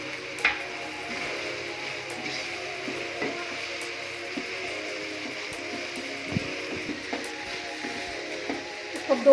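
Minced meat keema fries with spices in a pan for green-bean keema, a soft steady sizzle broken by occasional clinks and scrapes of stirring, with a voice speaking over it.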